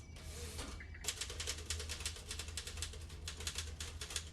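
A typewriter clatters offstage at a live ten-minute play performance, a faint, rapid run of key strikes in an irregular rhythm, distant and quiet with no speech over it.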